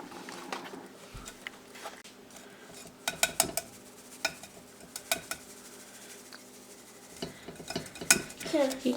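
A spoon or whisk stirring dry cake ingredients, flour, soda, baking powder and salt, in a bowl, giving close, irregular scraping and clinking knocks against the bowl over a quiet kitchen background, without speech.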